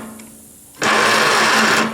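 Starter grinding on an old Farmall Super A tractor, a loud steady mechanical whir and grind that kicks in abruptly after a quiet moment and runs continuously to the end.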